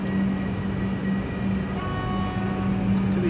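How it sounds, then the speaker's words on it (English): Old, noisy Alstom train set pulling out of Essendon station, a steady low rumble and motor hum with a faint tonal whine, continuous and moderately distant on the platform, no talk. "This is an Alstom set. These are a lot noisier than the newer trains"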